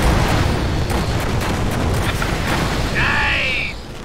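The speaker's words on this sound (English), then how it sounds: "You know, I have missiles." Missile explosions in the video game Brutal Legend, a dense continuous roar of booms and blasts throughout, with a brief rising whine near the end and someone talking over it.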